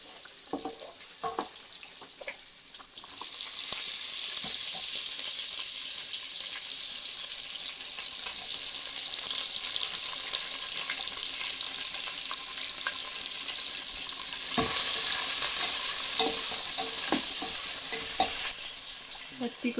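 Onion fries in a pan with chunky pounded ginger and garlic for a Nepali chicken thukpa, a steady close hiss of sizzling oil that swells louder midway, with occasional clicks of stirring and no talk.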